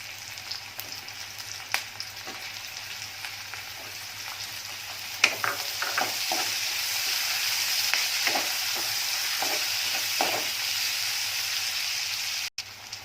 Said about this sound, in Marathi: एक हिरवी मिरची थोडी शिमला मिरची मऊसर होईपर्यंत तेलामध्ये परतून घ्यायची